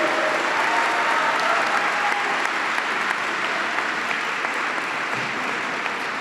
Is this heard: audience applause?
yes